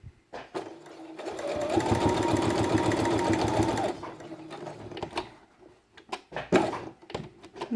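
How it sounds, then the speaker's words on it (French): A sewing machine runs a straight stitch through felt, threaded turquoise on top and pink in the bobbin, a steady fast whirring burst of a few seconds, then stops, followed by scattered handling clicks and taps. "Fil turquoise dans mon aiguille et du fil rose dans la bobine. Et je vais commencer la couture."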